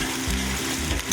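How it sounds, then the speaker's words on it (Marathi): Curry leaves and ginger garlic paste frying in hot oil, a dense continuous sizzle with scraping stirring strokes, close and steady. "आता हे बघा सर्व आपण असं व्यवस्थित मिक्स करून घेऊया आणि 2 मिनिटं भाजून घेऊया तेलामध्ये"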